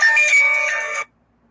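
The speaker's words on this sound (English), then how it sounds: "I know that's my phone." A mobile phone ringtone plays loud and close, a bright electronic melody lasting about a second before cutting off abruptly into silence.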